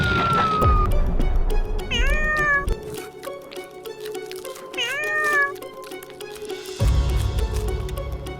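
Two small cats meowing close by, with a few drawn-out, rising and falling meows spaced apart over a steady background hum.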